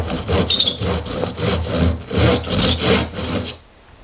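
A reclaimed wood board being notched for a workbench shelf by hand sawing, loud close rhythmic back-and-forth strokes about every half second, stopping abruptly near the end.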